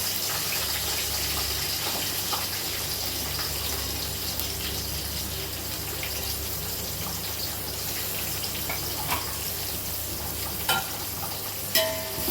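Chopped green chillies and onions fry in a pan for mutton biryani, making a continuous, busy sizzle with occasional stirring scrapes and clicks throughout, close and fairly loud.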